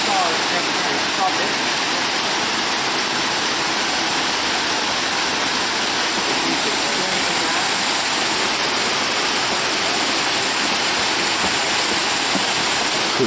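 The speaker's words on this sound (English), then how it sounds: "there's water flowing through here, and he opens up the gate, and it powers the saw" Steady, broadband rush of water pouring through the open gate of a mill dam that drives a water-powered sawmill at Mill Creek, Mackinaw, Michigan, continuous and fairly loud with no pauses.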